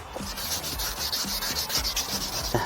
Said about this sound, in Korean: 모든 면을 다 이 투명한 부분이 보이지 않을 때까지 사포질을 해야 됩니다.